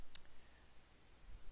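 One quick, faint click of a computer mouse on a Windows 8.1 PC, alone against a quiet background hiss.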